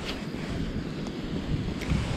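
Wind blowing across the microphone while fishing for rainbow trout from shore, a steady rushing buffet with low rumble and gentle surges, no voices present.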